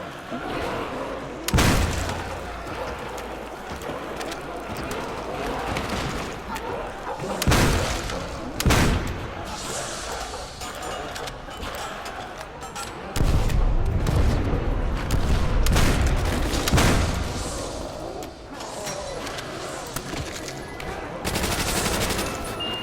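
A double-barreled 12 gauge shotgun is fired repeatedly in the Call of Duty zombies map Nacht Der Untoten, with loud, sharp blasts scattered over a constant din of game noise and combat.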